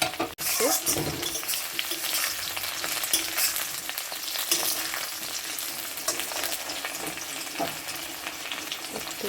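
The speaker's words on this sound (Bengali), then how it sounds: "সজনেগুলো ভেজে নেব" Steady, loud sizzling of drumstick pods frying in a pan, with occasional stirring scrapes and no talking.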